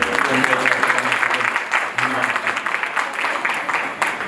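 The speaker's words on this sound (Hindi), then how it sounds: "ताली बजाएं।" Guests clap throughout an engagement ceremony, a steady dense patter with a few voices talking over it.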